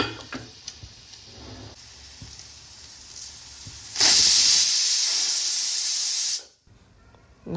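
A pressure cooker on the stove lets out a loud, sustained steam whistle for about two and a half seconds while coconut pulao cooks, rising out of a quieter background hiss and cutting off sharply.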